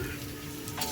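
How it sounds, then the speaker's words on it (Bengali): Lachha vermicelli frying in hot ghee over a low flame, giving a steady soft sizzle with faint stirring, close by and continuous, with no one talking. "ভাজা ভাজা করব।"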